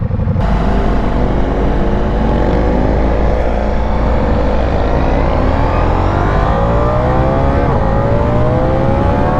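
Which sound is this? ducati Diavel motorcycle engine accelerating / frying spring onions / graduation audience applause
ducati Diavel motorcycle engine accelerating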